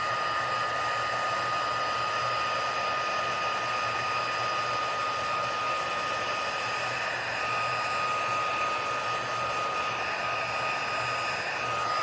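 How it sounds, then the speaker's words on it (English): A heat tool blows hot air to melt embossing powder on a card, producing a steady, even whooshing roar that runs unbroken close to the listener with no talking. "So I need to go back in with my heat tool."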